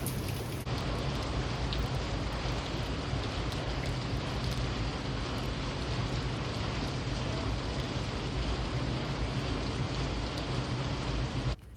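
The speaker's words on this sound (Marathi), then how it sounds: "पाऊस काही थांबायचं नावच घेत नाही." Heavy monsoon rain in Maharashtra falling as a loud, continuous dense hiss with no pauses and no voices.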